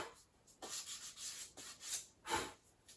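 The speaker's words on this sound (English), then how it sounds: "it does just bevel that just slightly so that you get it fed in and it goes inside the other piece smoothly" The edge of a piece is beveled to knock off burrs, with a quick series of short, close rasping strokes in an uneven rhythm and no talking.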